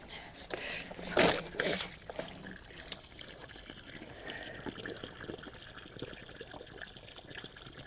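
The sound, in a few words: water being poured into a tropical garden planting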